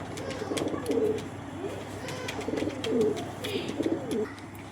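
Kasuri pigeon cooing up close, a series of soft, rolling coos repeating every second or so over a faint background hum.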